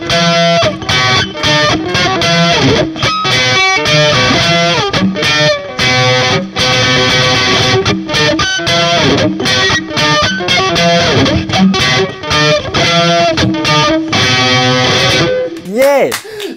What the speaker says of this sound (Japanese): いきなりちょっとハイゲインチャンネルに行ってみようと。